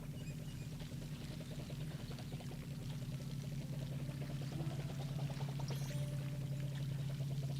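Watering cans pour on trees in the video game Palia, giving a continuous trickling splash over a steady low hum throughout.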